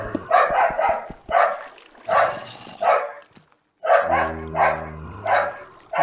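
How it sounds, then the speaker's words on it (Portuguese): Barking from a female dog, a run of sharp, repeated barks in uneven bursts with short pauses, fairly close, over a low droning background. "a cadela agora está a ladrar porque eles estão a sair"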